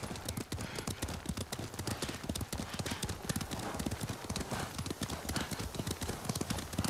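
Horses' hooves clip-clop steadily and close in Ghost of Tsushima, a rapid rhythmic patter of many hoofbeats continuing throughout without a break.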